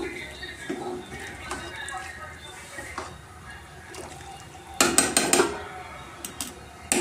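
Chicken biryani being mixed in a pot after lemon is squeezed over it, with scattered scraping clanks of a spoon against the pot and a burst of louder metallic clatter near the end, over quiet room noise.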